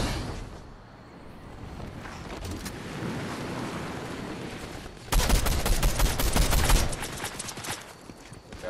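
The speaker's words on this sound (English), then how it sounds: "Gunshots over here." A rapid burst of video game gunfire rattles for a couple of seconds over a rushing, noisy background, loud and continuous before cutting off.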